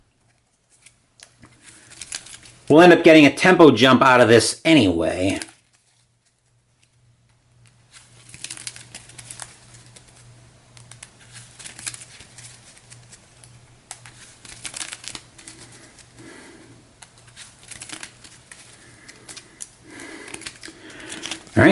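A deck of game cards is shuffled during a tabletop campaign session: one loud, riffling burst of a couple of seconds, followed by quieter handling and a person talking.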